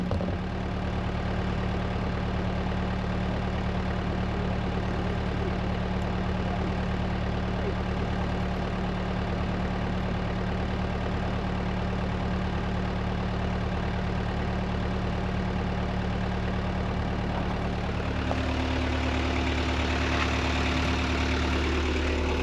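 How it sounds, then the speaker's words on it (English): A Mercedes 240D diesel engine idles with a steady, loud, low clatter running unbroken close by, with a slight shift in tone near the end. "Just listen to the diesel for a second."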